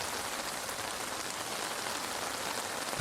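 Gentle rain on the Italian coast, a soft, even patter of drops that holds steady and alone throughout, ending in a brief louder bump.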